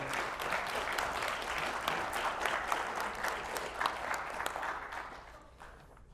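An audience applauds to welcome author Joan Barfoot to the stage, a steady mid-distance roll of many hands clapping that holds for several seconds and then fades near the end.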